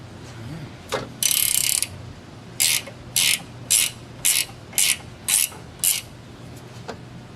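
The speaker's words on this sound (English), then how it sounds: "go ahead and tighten it up with your wrench" A wrench ratchets a bolt tight on Jeep Wrangler suspension during a lift install: a series of about eight short, crisp clicking bursts in a steady rhythm, close and clear with no talk.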